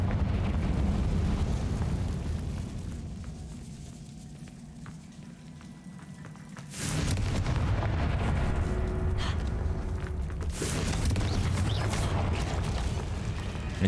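Confringo, the explosion spell in Hogwarts Legacy, goes off inside a cave as a sudden loud blast that cuts through a low rumbling ambience, followed by a sustained roaring, crackling aftermath.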